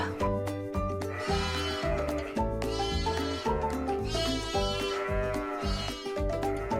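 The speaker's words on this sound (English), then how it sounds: "I hear a sheep." Several white sheep and lambs bleat over and over in a farm setting, their shaky calls layered over a steady rhythmic musical backing, fairly loud and close.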